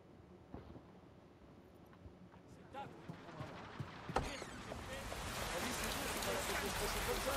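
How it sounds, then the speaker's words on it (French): In the video game Watch Dogs: Legion, soft rain patters faintly at first with scattered drops and clicks, then swells into a steady, louder downpour hiss. "Ah, il pleut."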